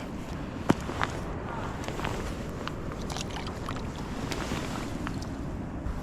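Wind blowing on a shore while fishing for roach with a pole: a steady, loud broadband rush buffets the microphone throughout, with a few faint clicks and small knocks nearby.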